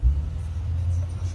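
A Mercedes GL600 V8 of almost 560 horsepower fires up with a low, steady rumble that starts strongly and then settles into a smooth close idle.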